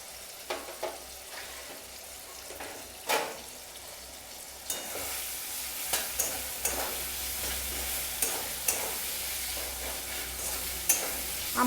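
Tomato and onion fry in a pan for chilli paneer, giving a steady sizzle with scattered stirring scrapes and clatters close by and no talk.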